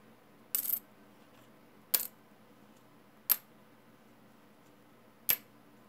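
Four separate small zinc pennies drop one after another onto a hard surface, each giving a brief metallic clink with a short rattle, in a quiet room.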